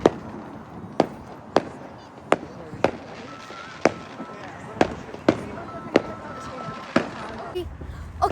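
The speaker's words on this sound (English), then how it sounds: "there are lots of fireworks right now" Bonfire night fireworks bursting outdoors, about a dozen sharp cracks and bangs at irregular intervals over a steady crowd murmur, moderately distant.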